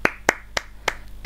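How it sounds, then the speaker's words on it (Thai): A short applause sound effect played during a talesrunner game stream: five crisp, evenly spaced claps over about a second, loud and close. "ขอเสียงปรบมือด้วยครับเสียงปรบมือครับ"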